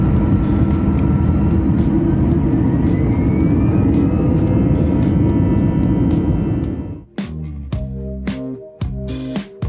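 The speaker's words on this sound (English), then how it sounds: "that was one really bumpy take-off and climb out from Santiago" An airliner takes off from Santiago, heard from inside the cabin. A loud, steady engine roar holds for several seconds, then gives way to uneven thumps and knocks.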